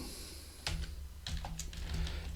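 Typing on a computer keyboard while entering text into a PowerPoint slide, heard as a few quick, soft key clicks in two short bursts over a steady low hum, with no talking.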